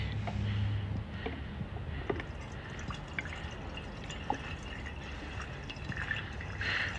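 Soft trickling and dripping of liquid poured into a Nissan S13 240SX fuel tank, over a low steady background hum, with occasional small splashes and clinks; no one speaks.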